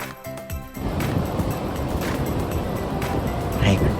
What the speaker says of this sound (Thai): ฟังเสียงคลื่นและเสียงลมชัดๆกันเลยนะครับ ว่าแรงขนาดไหน